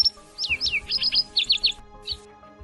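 A green cartoon bird chirps in a quick run of high, bright tweets, several short notes in rapid clusters and then one final chirp, close and clear over a faint background.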